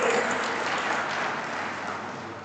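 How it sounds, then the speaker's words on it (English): Audience applause at a college orientation programme, a steady dense wash of clapping that stays fairly even and gradually eases off across the clip. "Please give a big round of applause on this data."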